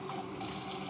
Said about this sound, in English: I'm just going to put a little bit of water in here to get the excess out.